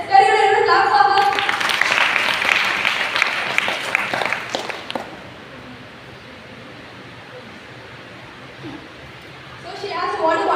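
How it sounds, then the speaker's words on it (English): A classroom claps for a volunteer in a loud burst of applause that fades out, leaving quiet room noise before another stir of sound at the end. "Everyone clap for her."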